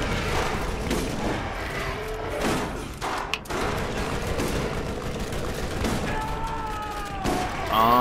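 Gunfire from a shotgun in the shooter game Borderlands, a few booming thuds mixed into a busy stretch of game noise and music, steady loudness with one dip midway.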